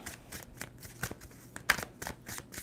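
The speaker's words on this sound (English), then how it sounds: "2 more shuffles for Cancer." Tarot cards being shuffled by hand for a reading, a series of soft, quick riffling and slapping bursts at close range with no talk.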